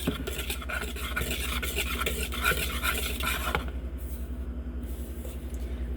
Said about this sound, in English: I'm going to make sure that all of my dry ingredients are mixed really well